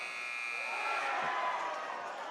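Sustained electronic buzzer sounding across the whole moment over a crowd murmur at the end of a JV boys basketball game in a school gym, steady and fairly loud without a break.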